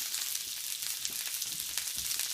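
Wild duck breasts frying in butter in a pan, a steady close sizzle with small crackles and pops throughout.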